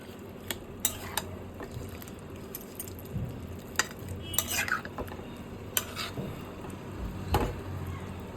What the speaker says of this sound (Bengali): ভালো করে নাড়িয়ে ঢেকে ফুটতে দেবো